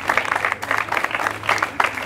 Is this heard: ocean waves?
no